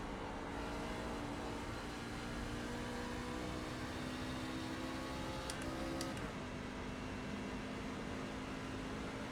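A race truck engine in the iRacing game holds at full throttle at Kentucky, a steady loud drone that runs the whole way with little change apart from a brief high click near the end.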